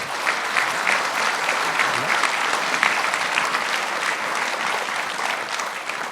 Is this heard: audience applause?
yes